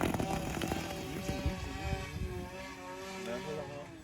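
An RC plane taking off outdoors, its small propeller motor buzzing and whining with shifting pitch at moderate distance, under wind noise and some nearby voices.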